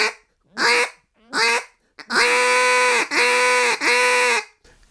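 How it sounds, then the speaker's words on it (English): A duck call is blown in short quacks that build into a long hail call of loud, drawn-out notes, close and clear with no talk. "you start with a basic quack and build up until you can hit a hail call with it"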